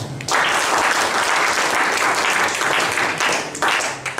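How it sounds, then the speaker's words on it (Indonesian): A classroom audience bursts into sustained applause for about four seconds, dense, close clapping filling the room with no talk over it. "tepuk tangan"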